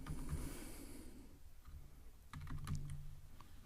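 Rapid bursts of typing on a computer keyboard, close and fairly quiet, with soft keystroke clicks over a breathy background hiss.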